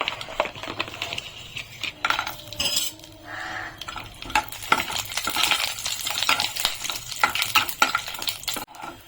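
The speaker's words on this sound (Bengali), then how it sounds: "আমি এখন কয়েকটা কাজু আগে ভেজে নেব।" Cashews frying in ghee in a kadai for carrot halwa, a faint sizzle under frequent sharp metallic clinks and scrapes of a spoon stirring against the pan.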